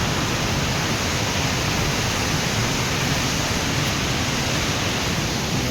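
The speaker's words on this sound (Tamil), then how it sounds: "மலைக்கு நடுவில் தண்ணி போகுது." Water flows between hills, giving a steady, dense rushing wash that stays even and unbroken throughout, with no voices.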